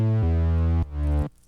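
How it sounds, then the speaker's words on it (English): Two synth bass sounds layered together play two sustained, deep notes in a row, buzzy and full, before cutting off sharply. Loud and close, with no other sound. "So I have two bass sounds here layered on top of each other."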